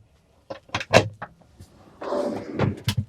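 Drawers opening and closing below the counter in a 2026 Wingamm Oasi 690 camper van, a series of close clicks and knocks followed by a longer sliding rumble and a few more sharp thumps, with no voices.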